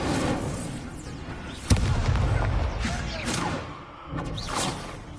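Incendio fire spell cast in Hogwarts Legacy: a sharp fiery burst near the middle, over a busy bed of game effects, whooshes and music.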